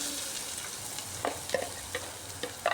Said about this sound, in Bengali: চপ করে রাখা পেঁয়াজটাকে একটু ভালোভাবে ফ্রাই করতে হবে